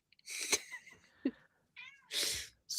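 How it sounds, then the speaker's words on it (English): A cat meows nearby in short, soft calls, a few separate mews spread through a quiet moment with small background movements in between. "There's a cat walking around over here."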